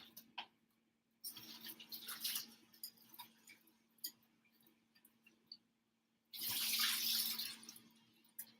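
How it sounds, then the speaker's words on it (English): Cold tap water runs into a bowl of potatoes in a home kitchen, a hissing splashing flow that comes in two bursts. Quieter handling clatter falls between them. "I'm going to put these in cold water"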